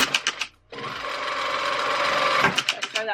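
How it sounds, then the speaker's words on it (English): A sewing machine runs in one continuous burst of fast, even stitching straight across a quilted fabric bag, close and loud, with a person talking briefly before and after. "And then I sew that, so I sew straight across there."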